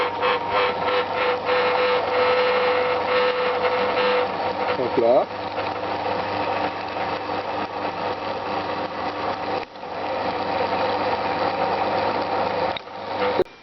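A drill at its minimum speed taps threaded holes in a CNC 3020 square, a steady whirring mechanical drone with ratcheting texture that pauses and resumes as the direction reverses; someone speaks briefly over it.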